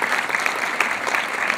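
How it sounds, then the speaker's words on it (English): Dense audience applause after a film screening at a panel discussion, steady and continuous throughout with many hands clapping at once, no speech over it. "let's give another round of applause for Father Frank Black"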